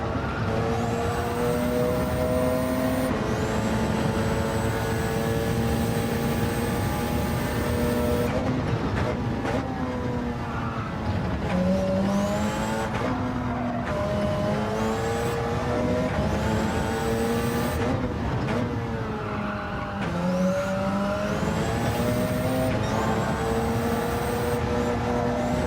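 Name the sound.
Porsche 919 Hybrid race car engine in Gran Turismo 7 video game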